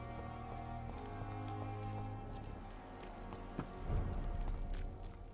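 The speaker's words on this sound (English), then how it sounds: "Sprinting in the rain." Rain falls steadily in the video game Vampyr, a soft constant patter with some tonal game sound and a few brief thumps and footfall-like knocks near the end.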